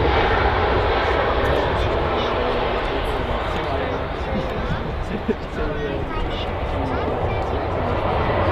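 A Ryanair airliner in special livery at Manchester Airport, a loud steady jet engine roar that lasts throughout, with someone talking over it.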